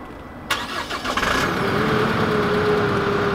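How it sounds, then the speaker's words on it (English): A 2020 Chevy Colorado ZR2 Bison Duramax diesel pickup is remote started, cranking and firing up, then settling into a steady rumbling idle, close by, with no voices. "if we lock the truck and then we hold down the remote start, we can hear that diesel come to life."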